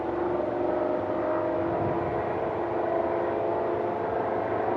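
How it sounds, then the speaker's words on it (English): A car engine revs steadily at high RPM, a sustained droning whir that stays loud and even throughout with no talking. "Somebody's like revving their car."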